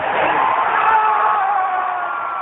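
A crowd cheering at a packed Ford Field in Detroit, a dense continuous roar of many voices, loud and steady, with a thin band-limited quality.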